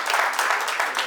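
A short stretch of loud, steady audience applause at a Kaveri 2025 stage event, many hands clapping together in a thick wash.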